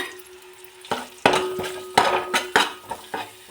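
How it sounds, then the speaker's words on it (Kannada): Onions frying in a pan with kasuri methi and turmeric for a village-style egg sambar, heard as a run of sharp metal utensil scrapes and clinks against the pan over a low steady sizzle, close and loud, with no talk. "ಇದಕ್ಕೆ ಸ್ವಲ್ಪ ಕಸ್ತೂರಿ ಮೆಂತ್ಯ ಮತ್ತು ಅರಿಶಿನ ಜೊತೆಗೆ ಹಾಕಿ ಫ್ರೈ ಮಾಡ್ಕೊಳ್ಳೋಣ"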